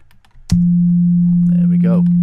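A steady sine wave test tone cuts in abruptly and holds continuously in Ableton Utility after its phase is restored, loud and unchanging, while a person talks over it.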